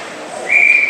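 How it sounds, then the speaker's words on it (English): At a River Kings vs. Northern Wings ice hockey game, the referee's whistle blows one sustained shrill tone over arena crowd noise, starting halfway through and holding to the end. "have the ref blow the whistle for a face-off."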